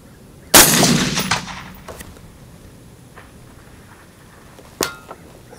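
Two rifle shots ring out toward a steel plate target 200 yards away, a loud sharp crack with a decaying echo followed seconds later by a second, quieter report, no talking between them.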